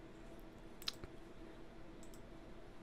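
A single short mouse click sounds once, close and fairly faint, over steady low room hum while setting up an access token in Postman on a computer.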